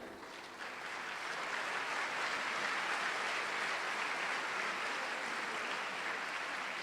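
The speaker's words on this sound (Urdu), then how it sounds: "آپ کی تالیاں۔" An audience at a convocation ceremony claps steadily, a dense wash of applause that swells in the first second and holds evenly, heard from a distance and fairly faint.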